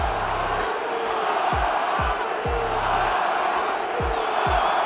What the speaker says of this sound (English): several thousand 12th men and women cheering as the Seahawks win at home